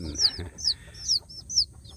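Newly hatched native village chicks cheeping close by: four bright, downward-sliding peeps spaced about half a second apart, over a faint low rumble.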